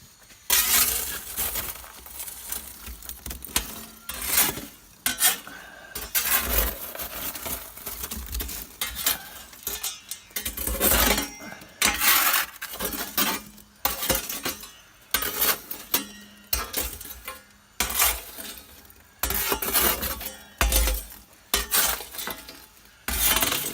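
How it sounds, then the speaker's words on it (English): Burning wood fire coals being shifted inside a wood oven, with repeated scraping, clinking and crackling bursts in an irregular rhythm, close and fairly loud. "I'm just going to shift half the fire over to the other side"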